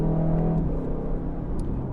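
A sports car engine, from an Aston Martin Vantage, Ferrari Roma or Porsche 911 Turbo S, drones with a low, steady growl while driving, heard from inside the cabin with a mild rise in revs.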